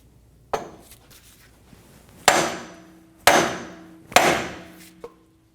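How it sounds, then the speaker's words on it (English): Hammer blows on a 2019-2025 Ram 2500 drag link to break it loose from the steering knuckle: four sharp metallic strikes spaced about a second apart, each ringing briefly, close and loud, followed by a small clink. "Using a hammer, we're going to break the tension between the drag link and the knuckle."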